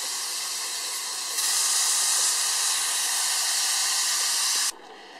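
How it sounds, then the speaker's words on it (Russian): Steam pressure is released from an Afghan kazan pressure cooker holding pea porridge with pork ribs: a loud, close, steady hiss that swells stronger partway through, then cuts off abruptly near the end. "Давление стравливаю и открываю."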